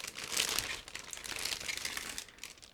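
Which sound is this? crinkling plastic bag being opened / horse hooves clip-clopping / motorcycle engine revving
crinkling plastic bag being opened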